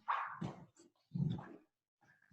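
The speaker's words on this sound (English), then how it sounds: "We also might hear the dogs from the neighbors" A neighbour's dog heard through an open window, giving a few short barks and yelps in quick succession, fairly close and clear with no talking over it.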